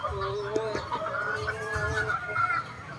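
A Bone Crusher hatch gamefowl chicken clucks repeatedly in short, tonal calls, moderately close and fairly quiet, with a few sharp clicks between the clucks.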